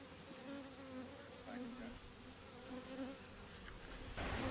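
Insect buzzing near a beehive at a camp in Maine, a steady drone with a bright high hum running throughout, continuous and moderately close, with brief outdoor noises and a slight rise at the end.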